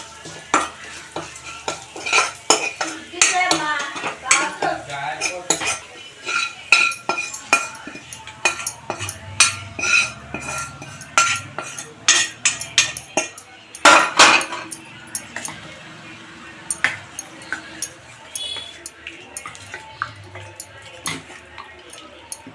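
A spoon clatters and scrapes repeatedly against a metal pot, stirring a mustard-seed tempering in oil, quick irregular strokes with bright clinks, over faint sizzling and occasional background voices.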